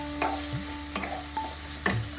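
Green peas frying in a pan for a dal, a quiet steady sizzle broken by four distinct clinks of stirring spaced about half a second apart, close by with no talk.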